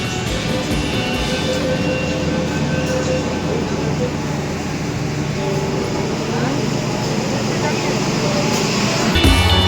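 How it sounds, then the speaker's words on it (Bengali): Kolkata Metro train running between Rabindra Sadan and Esplanade, a loud steady rumble and whine inside the carriage with constant mechanical hum, while voices talk over it. "সে কারণে মেট্রো ধরে এখন যাই।"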